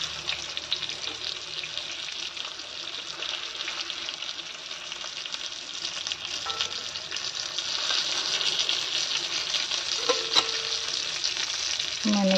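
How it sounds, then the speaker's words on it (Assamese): Pointed gourd (patal) fries in a pan while being stirred, a steady close sizzle with scraping strokes of the spoon and a few light clinks, growing slightly louder toward the end. "এনেকৈ আটাইকেইটা লৰাই লওঁ"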